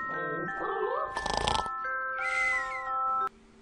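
Cat meowing in the Game & Wario video game, short meows mixed with game chimes and music tones, then a burst of noisy rustle, under steady electronic tones.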